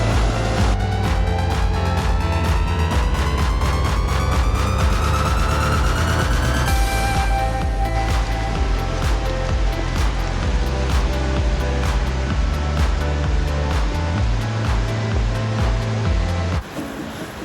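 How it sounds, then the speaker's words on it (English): High, fast creek water with a strong current on Eagle Creek, a loud, steady roar of rushing water that fills the whole stretch without pause, heard close and with no voices. "the water level is just so high right now, and the current's really strong"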